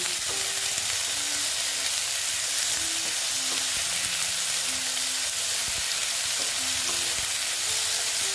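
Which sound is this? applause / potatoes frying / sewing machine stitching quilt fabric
potatoes frying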